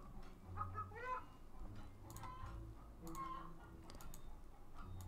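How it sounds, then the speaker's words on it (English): A chicken clucks softly in an interactive fiction game, making a few brief, quiet clucks scattered over a low background hum. "There's a chicken."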